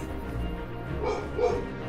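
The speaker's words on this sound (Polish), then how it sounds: "pieseł mi szczeka" Pet dog barking in a room while someone plays the Death's Gambit video game, a couple of short yipping barks around the middle, muffled and moderately faint over a low background hum.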